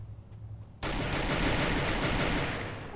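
Sustained automatic gunfire from the video game Free Fire, a loud continuous burst that starts abruptly after a short quiet moment and rattles on steadily for over two seconds, alone without talk.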